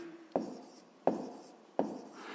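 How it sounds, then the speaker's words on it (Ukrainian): Pen marks made while writing down an answer in a sixth-grade math lesson: three separate quiet taps and short scratches, evenly spaced and close, in an otherwise silent room. "Ну що ж, записуємо тоді відповідь."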